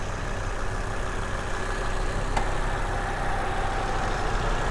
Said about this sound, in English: Makes really fun turbo sounds, has a really aggressive exhaust note.